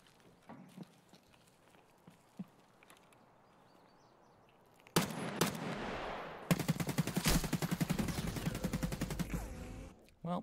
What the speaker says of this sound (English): That was a lot of shooting.